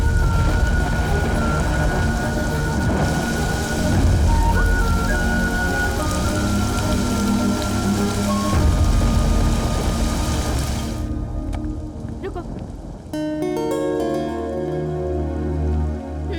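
Rain falling on a film scene, a constant dense patter of drops that carries on with a backing music track over it, the rain sound dropping away partway through before the music continues.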